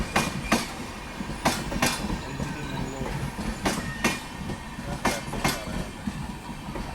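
The Matsyagandha Express rolls in on the Konkan railway in heavy rain, wheels clacking over rail joints in irregular sharp bursts over a steady rumble, fairly near with faint voices in the background.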